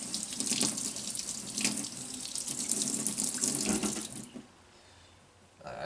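Water runs from a tap into a sink during washing up, a close, splashing rush that shifts as the flow hits dishes, then drops to a quieter trickle near the end.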